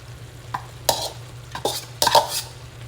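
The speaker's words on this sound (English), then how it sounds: "we'll give that a good stir" A utensil scrapes and turns Southern fried cabbage with kielbasa and bacon in a pan, giving several distinct close stirring strokes over a faint low sizzle, with no talking.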